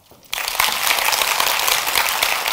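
After a brief hush, the other half of a lecture hall's audience breaks into a full, dense round of applause that holds steady and loud to the end.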